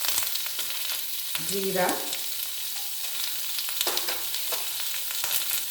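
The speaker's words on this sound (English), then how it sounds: "I will fry this in low to medium fire. Let it fry for some time." Whole spices such as cardamom, cloves, cinnamon and fennel seeds frying in oil in a pan over low to medium heat, a soft constant sizzle with a brief stirring scrape partway through.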